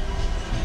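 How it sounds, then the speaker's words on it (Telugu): The Amaravati Express rolls along the rails between Goa and Vijayawada, a brief steady rumble of wheels heard from inside the carriage. "ఓకే, ట్రైన్ స్టార్ట్ అయిపోయింది 7:25కి."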